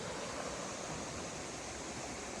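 Bald River Falls rushes steadily along the Cherohala Skyway, a dense, unbroken broadband roar of falling water with no voices.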